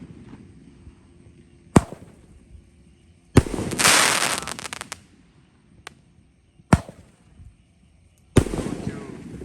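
Mercon 25-shot roman candle fireworks let off at night during Ramadan: several sharp, loud bangs spaced a few seconds apart, with one longer crackling burst between them, each standing alone against a quiet background.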